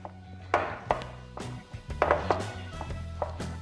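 A cold metal whisk works cold butter into flour for buttermilk biscuit dough, giving a series of close, sharp taps and scrapes against the bowl in an irregular rhythm, about a dozen distinct knocks with no talking.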